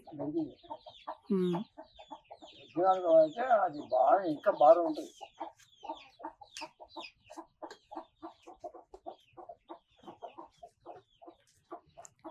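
Free-range country chickens and a rooster cluck nearby in a short burst while eating grain, followed by a run of quick, soft rhythmic pecking taps.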